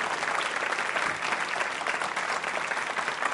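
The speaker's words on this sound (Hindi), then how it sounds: "तालियां बजाइए इस संकल्प के लिए जोरदार तरीके से आप।" Loud, sustained applause from a quiz show audience at a Ganesh Chaturthi program, a thick even roar of many hands clapping without a break.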